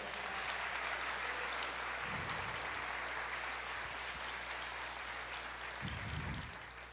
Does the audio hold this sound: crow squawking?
no